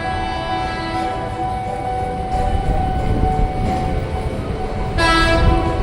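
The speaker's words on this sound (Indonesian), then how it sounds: "Ini JRS 20553, komuteran tujuan Bogor" KRL commuter train bound for Bogor rolling through Pondok Cina station near a level crossing, a steady loud rumble of wheels and cars throughout with a sustained horn blast near the end.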